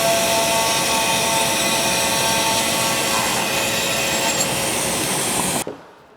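A piece of LVP flooring being cut to fit a staircase, a loud, continuous close-up sawing roar that holds steady for several seconds and then stops abruptly.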